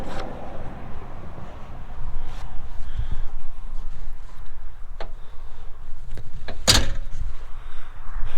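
The rear door of a 2021 Bobcat T870 skid steer loader is worked, with a sharp metallic clunk of the latch standing out amid faint rattles and steady outdoor background noise.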